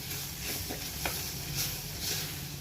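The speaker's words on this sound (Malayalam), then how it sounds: "മഞ്ഞൾപ്പൊടി ആഡ് ചെയ്തു ഇനിയും വഴറ്റും." Mushroom masala with turmeric powder sautés in a pan, giving a soft, steady sizzle and hiss with faint scraping stirs, quiet and continuous.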